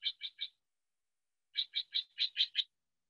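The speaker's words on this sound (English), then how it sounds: "she also loved to listen to the birds, like the Steller's Jay." A Steller's Jay calls in two bursts of rapid, harsh repeated notes, a short group of three followed after a pause by a longer run of six, clear and fairly close against silence.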